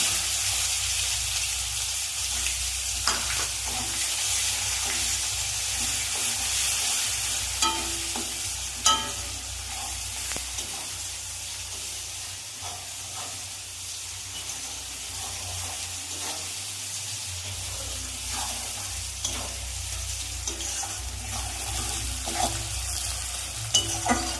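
Chopped onions frying with prawns in a pan, a steady hiss of sizzling oil with occasional stirring clinks, close and continuous.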